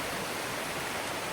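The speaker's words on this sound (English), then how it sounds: "So we've got the water running down beside our land here" A river runs beside open land, its water producing a steady, close, even rushing that does not change and has no other sounds over it.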